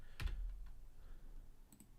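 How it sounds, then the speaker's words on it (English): A few scattered computer keyboard keystrokes click close by, faint and sparse, with quiet room noise between them. "I'm just typing hello with a bunch of O's."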